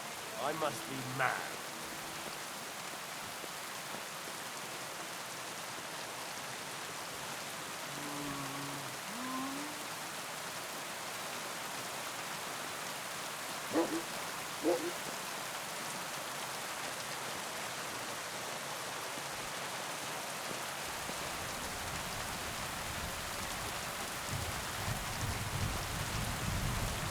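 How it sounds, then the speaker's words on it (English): Steady rain hisses softly across the game world of Kingdom Come: Deliverance II, a faint, even wash with a few brief louder patches and a short muffled voice early on. "Rain."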